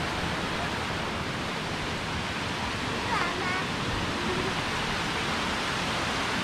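Kuang Si Waterfall in Laos roars as a constant, loud broadband rush of falling water, steady throughout with no breaks.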